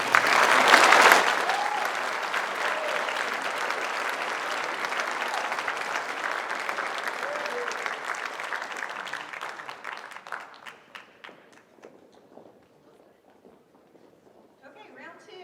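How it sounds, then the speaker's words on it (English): Audience applause at a high school class night scholarship ceremony, a loud burst that settles into steady clapping and slowly thins out over about ten seconds, leaving scattered claps and a faint voice at the end. "Let's go ahead and give her a round of applause for this."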